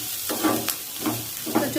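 Onions and dried red chillies fry in a pan while a spatula stirs them, giving three scraping strokes over a steady close sizzle.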